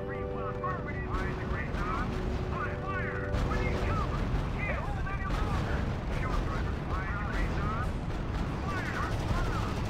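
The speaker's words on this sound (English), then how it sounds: "Unit under fire." Gunfire rattles throughout a battle in the strategy game R.U.S.E., with loud continuous shooting, explosions and engine noise close up, and a tonal game alert near the start.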